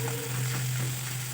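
Crushed ginger-garlic paste fries in oil over a medium-low flame, giving a steady, soft sizzle with a low hum running through it and no voices.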